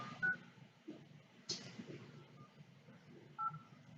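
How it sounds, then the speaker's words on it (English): Landline telephone dialing tones beep faintly in short separate presses, a couple of keypad tones with quiet room noise and a soft click between them. "Let me call Andrea's phone from my landline"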